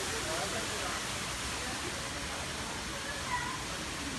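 Rushing water from a waterfall or cascade in a park setting fills the scene with a steady, loud broadband roar, continuous throughout with no pauses.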